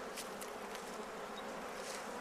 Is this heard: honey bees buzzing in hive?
yes